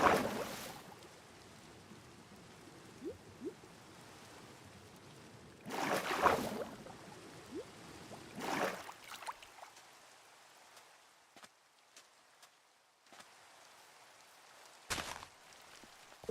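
Rain falls in Terrafirmacraft as a steady, soft hiss that pauses and shifts, broken by a few louder bursts of noise.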